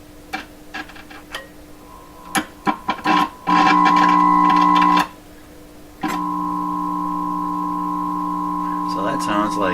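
A 1928 RCA Victor Model 28V radio under repair gives a loud, steady electrical hum that switches on, cuts out, then returns and holds, with ticks and clicks from probing between bursts and a voice talking.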